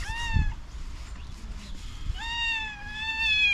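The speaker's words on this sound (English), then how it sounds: "Jealous kitty." A jealous, angry calico cat meows twice, each a drawn-out harmonic cry, the first brief and the second longer, heard close and fairly loud in a quiet room with no talk.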